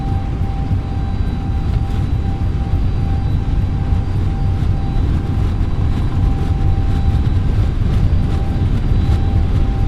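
Steady jet engine roar and rumble as an Airbus A321neo rolls down the runway on takeoff in Microsoft Flight Simulator 2024, a loud, even drone with a faint whine on top and no talking.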